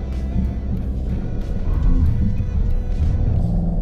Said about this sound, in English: let's see if I can power up this steep upward slope now